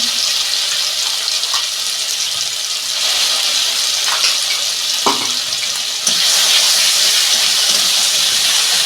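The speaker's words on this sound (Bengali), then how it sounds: "যে মশলাটা পেস্ট করে রেখেছিলাম দু চামচ দিয়ে দিচ্ছি" Spice paste goes into a pan of Katla fish curry and sizzles as a steady, loud hiss of frying that continues throughout, with a slight surge partway through and no speech.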